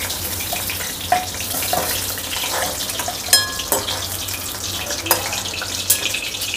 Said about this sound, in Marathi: थोडेसे आपण शॅलो फ्राय करून घेऊया।